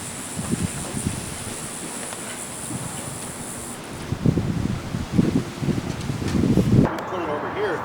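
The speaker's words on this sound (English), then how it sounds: "Having a little trouble standing against this wind." Hurricane Charley winds in Punta Gorda, Florida, in 2004 roar steadily and close to the microphone, swelling into louder buffeting gusts toward the end.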